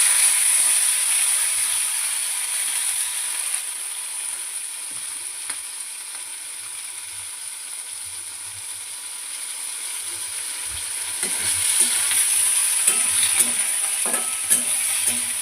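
Potatoes frying in hot oil with a steady, close sizzle and crackle throughout, turning busier with scattered pops and scraping stir sounds toward the end.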